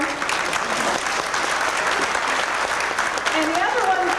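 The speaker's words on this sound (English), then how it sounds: "you can clap for him" Audience at a Sun City 30th anniversary gathering applauding, a steady, fairly even wash of many hands clapping that fills the whole stretch at moderate distance.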